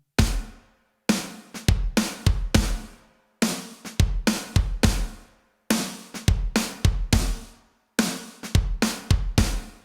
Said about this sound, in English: So check out just the kick and snare together.